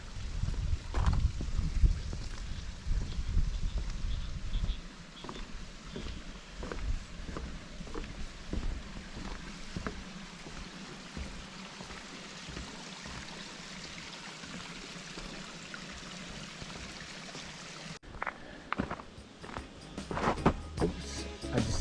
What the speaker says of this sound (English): If you're quiet, you can hear the noise of the water.